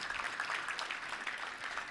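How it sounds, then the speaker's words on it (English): An audience at a Little Rock Touchdown Club luncheon applauds a guest speaker's parents, a soft, even wash of many hands clapping in a large room, heard from a distance. "Let's give you a round of applause."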